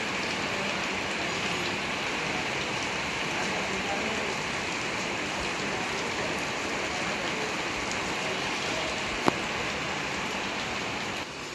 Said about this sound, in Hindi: अब बारिश ने बाधा उत्पन्न कर दी है तो थोड़ा रुक जाते हैं और बारिश का ही आनंद लेते हैं